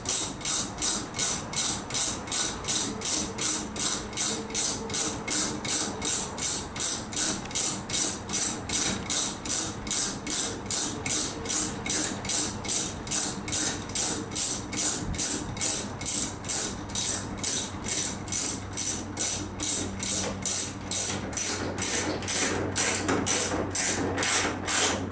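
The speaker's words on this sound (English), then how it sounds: "you can use a ratchet, wrench, or gun to speed things up" A ratchet tightens a clamp fitting during a final connection inside a mounted capsule, giving a long, steady run of rapid, evenly spaced metallic clicks close up, with no talking.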